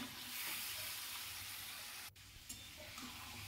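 Marinated mutton dropped into a pan of lightly fried garlic, giving a steady close sizzle with a brief sharp crackle midway, no voices.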